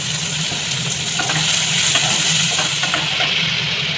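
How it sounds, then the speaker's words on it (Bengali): Onions and tomatoes with salt fry steadily in a pan, a continuous close sizzle and hiss with faint stirring scrapes, no voices over it. "এটাকেও ভালো করে ব্রাউন কালারের মতো ভেজে নেব"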